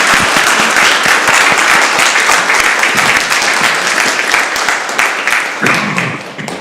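A room full of people applauds loudly at a council meeting honouring the youth mayor and youth councillors, dense sustained clapping that gradually tapers off toward the end.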